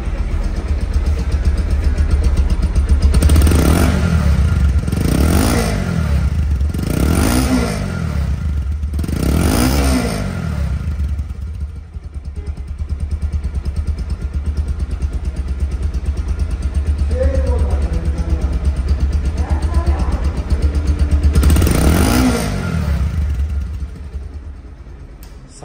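A 2023-model motorcycle with about 1200 km and a showroom-condition engine idles close by and is revved hard several times in bursts, the engine roaring up and settling back between throttle blips.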